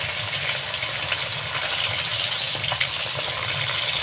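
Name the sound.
parshe fish frying in a pan, Bengali recipe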